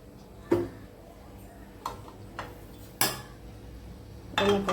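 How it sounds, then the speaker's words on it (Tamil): A metal kadai set down on a stovetop with several sharp clanks and knocks, then oil poured in, the metallic hits spaced out over a low steady background hum, close and fairly loud. "இப்போ அடுப்பத்தை வச்சு கடாய வச்சுக்கலாம். கொஞ்சமாக எண்ணெய் ஊற்றிக்கலாம்."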